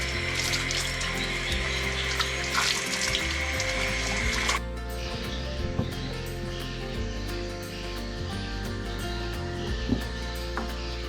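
Face washing with water from the Katingan River in Central Kalimantan. Steady running, splashing water fills the whole clip at close range, loud and continuous, with a change in texture partway through.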